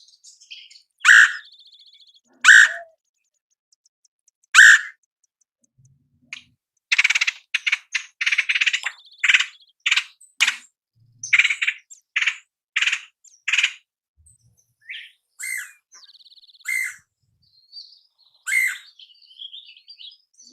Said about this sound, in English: So here we go, the red-headed woodpecker call.